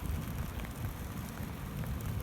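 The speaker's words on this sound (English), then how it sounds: "in the rain, non-stop rain" Heavy, non-stop rain drums on a car being driven, a dense steady wash of patter and road rumble with no talking.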